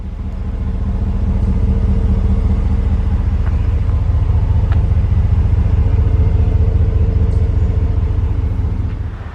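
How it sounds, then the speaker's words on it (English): A 2019 RAM 1500 truck with its stock exhaust idles close by, giving a steady, deep low rumble with an even pulse throughout and no talking. "I'll run it by just one more time without me talking so you guys can hear how it sounds at idle with the stock"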